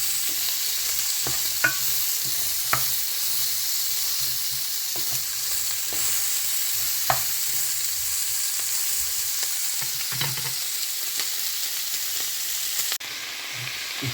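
Breakfast pan frying on medium to high heat after sweet pepper goes in, giving a steady broad sizzle with occasional sharp pops and crackles and faint scraping or stirring noises throughout, no talking.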